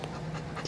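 A therapy dog pants in a hospital, a short run of steady, close breathy panting with no talk over it.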